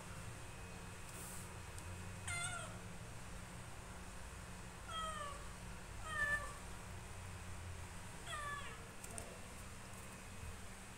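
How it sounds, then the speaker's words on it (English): A cat meows repeatedly in short, faint calls spaced a few seconds apart, close by in a quiet room over a low background hum. "Itchy cat again."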